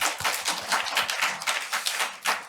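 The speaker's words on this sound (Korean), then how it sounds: "우리들을 위해서 한번 큰 박수 한번 부탁드려도 될까요?" A conference audience claps in a brisk, dense patter of many hands, close and moderately loud, continuing without pause for a couple of seconds with no one speaking.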